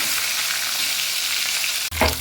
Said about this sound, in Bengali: আমি মশলাটা ভেজে নেব, এই রান্নাটা ভেজে করবো।